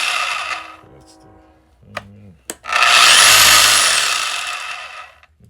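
A Hercules 12 amp rotary hammer briefly switched on, a couple of short clicks and blips followed by a loud, close motor whine that revs up, holds for about two seconds, then winds down, with no talking.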